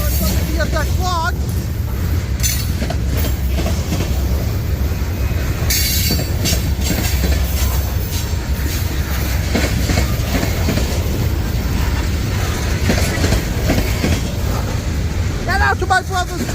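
A quad train rolls steadily past in St Paul, Minnesota, with heavy continuous rumble, clanking railcars and brief wheel squeals, loud and close throughout.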